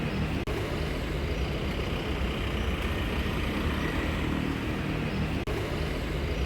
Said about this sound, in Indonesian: Inilah bus yang kita naikin, Trans Kutaraja